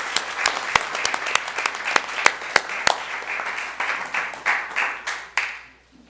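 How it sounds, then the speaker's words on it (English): Audience at a school board meeting clapping in applause, with several sharp individual claps standing out early before the clapping thins and fades away near the end. "So let's applaud all of them."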